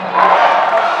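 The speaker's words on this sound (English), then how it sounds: "And even the crowd's starting to get a little antsy," Crowd at a Hawaii men's volleyball home match between UH Mānoa and Loyola Chicago gives off a steady, sustained roar of cheering and chatter that fills the whole moment without a break.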